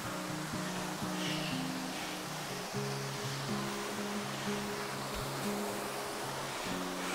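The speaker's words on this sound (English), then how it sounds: "That is a cool little waterfall" A small waterfall at Mobong Falls near Coffs Harbour gives a steady, dense rush of falling water. It runs as a continuous broadband wash throughout, fairly close, with a faint low tonal hum underneath.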